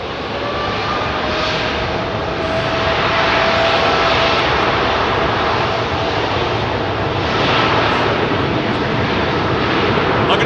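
Jet airliner departing Heathrow, its engines producing a loud, steady roar that holds strong throughout and swells slightly toward the end, with no talking over it.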